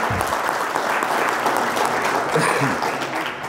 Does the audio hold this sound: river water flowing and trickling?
no